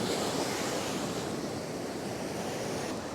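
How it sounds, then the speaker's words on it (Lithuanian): Sea waves breaking on a sandy beach along the coast near Palanga make a steady, broad roar of surf, mixed with wind noise, continuous and fairly loud with no voices. "o čia jūra gauda"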